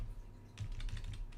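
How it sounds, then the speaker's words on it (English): Rapid typing on a mechanical keyboard, a dense run of close, crisp key clicks that begins about halfway through and continues steadily to the end, with no voices. "I do type better on this mechanical keyboard"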